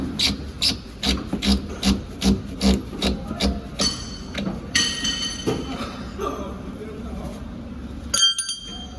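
Strap wrench tightening the filter on a Tata truck, a run of rhythmic rubbing and grinding strokes that are loud and close, followed by metallic clinks and scraping.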